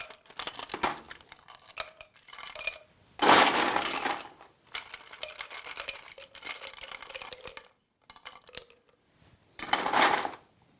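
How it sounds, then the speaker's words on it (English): Ice cubes tumble into a cocktail glass in bursts, sharp clinking and cracking clusters separated by short pauses, close and bright, with two louder pours standing out. "gently fill the glass up with your ice cubes"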